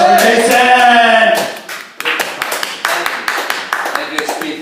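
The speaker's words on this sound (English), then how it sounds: "round of applause for Jason" A comedy club audience claps for a comedian taking the stage, a quick burst of scattered hand claps that follows a voice and fades as talk resumes.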